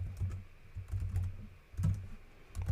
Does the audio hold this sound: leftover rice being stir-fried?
no